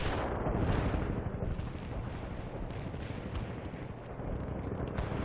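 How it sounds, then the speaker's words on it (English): Incoming counter-battery artillery fire in the World in Conflict video game, a continuous dense rumble of blasts and booms with no distinct pauses. "Now dealing with Incoming counter fire, artillery."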